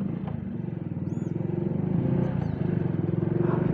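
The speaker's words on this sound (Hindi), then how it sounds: "मैं बाइक को पुनः स्टार्ट करता हूँ।" Hero HF Deluxe motorcycle running after being restarted, a steady close idle with a pulsing low engine rhythm throughout, warming slightly toward the end on a sunny village road.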